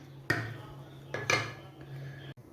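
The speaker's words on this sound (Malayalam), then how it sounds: "കടുക് പൊട്ടിക്കാനുള്ള പാത്രം വെച്ചു." A cooking pan set down on a home kitchen stove, with two clear metallic clanks followed by a softer scrape, over a steady low hum of the burner.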